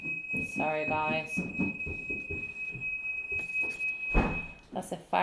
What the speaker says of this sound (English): that's a fire alarm because my partner is cooking us lunch